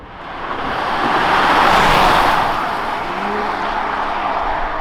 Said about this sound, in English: Now let's put the car into Sport Plus mode and drive.